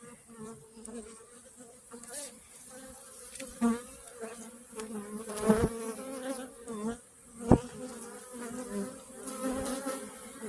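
Honey bees swarm around an opened hive frame full of larvae, a dense, close buzzing hum that wavers in pitch, with occasional sharp knocks and handling noises cutting through.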